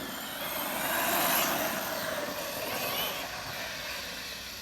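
An Arrma Kraton EXB RC car with a locked rear differential runs at a distance outdoors, a steady hissy, airy whine with broad noise throughout and no talk.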